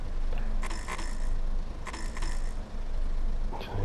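Air brakes releasing on a six-car Class 101 diesel multiple unit in the Train Sim World 6 game, several sharp hissing bursts of air with short pauses between them over a low steady engine hum.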